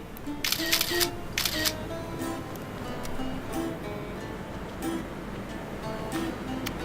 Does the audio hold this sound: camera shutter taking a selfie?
yes